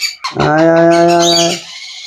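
A single baby bird gives one loud, drawn-out tonal call close by, lasting just over a second before it fades out.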